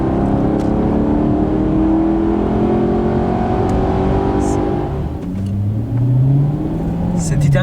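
A Maserati GranTurismo S pulls away from a traffic light, its engine rising in a smooth low-rev growl heard from inside the car, easing off and then climbing again through a second pull. Someone talks over part of it.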